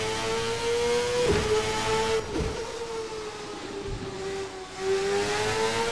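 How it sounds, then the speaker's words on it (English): A racing IndyCar engine in the Assetto Corsa driving game, a loud sustained whining drone with a shifting pitch, a couple of sharp dips and gear-change-like breaks, held close and continuous throughout. "freaking love the sound of this car."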